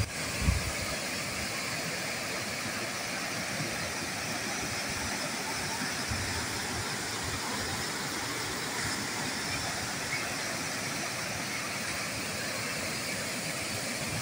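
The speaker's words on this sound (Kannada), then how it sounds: "ಈ ನೀರು ಯಾತ್ರ ಅಂದ್ರೆ ಇದು ಫಾಲ್ಸ್ ತರ ಒಂದೇ ಸಲ ನೇರವಾಗಿ ಬಿಡಲ್ಲ ಅಂತ ಅಂತವಾಗಿ ಮೆಟ್ಟಿಲ ರೂಪದಲ್ಲಿ ಬಿಡುತ್ತೆ" Godachinamalki waterfall near Gokak, with water cascading down a series of rock steps rather than dropping in a single fall. It makes a loud, steady roar that stays unbroken throughout, with a brief bump near the start.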